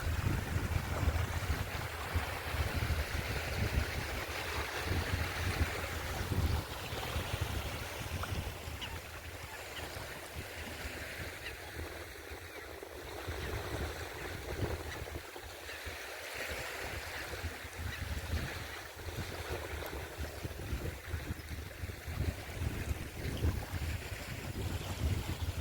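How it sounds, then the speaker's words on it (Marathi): River waves wash continuously near a riverside field, mixed with heavy wind rumble buffeting the microphone, with no voices. "अगदी समुद्रासारख्या लाटा आहेत"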